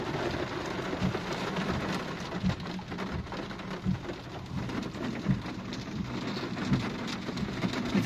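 Heavy summer downpour in Ryazan pours down steadily in a dense, constant hiss, with drops pattering close by on hard surfaces.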